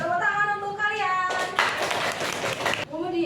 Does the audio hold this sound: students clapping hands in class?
yes